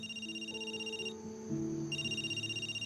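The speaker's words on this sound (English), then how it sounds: "phone rang in the middle of the night" A phone ringing at night, a continuous electronic ringtone melody playing loud and alone for the whole moment.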